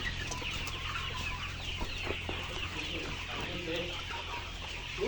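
Layer hens on a Kushtia poultry farm holding over three thousand birds cluck in a busy, overlapping chorus, with scattered nearby calls over a constant barn background.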